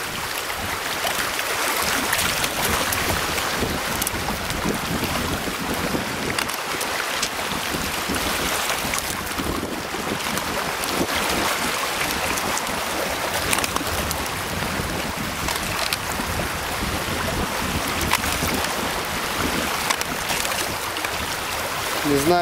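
Waves wash steadily onto a seashore, a continuous broadband rush with no clear breaks that fills the whole stretch at a fairly loud, even level.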